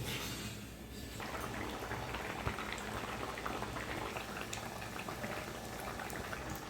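Vegetable dal bubbling at a steady boil in a cooking pot, a dense continuous simmer of small popping bubbles throughout, close and fairly loud with no one talking.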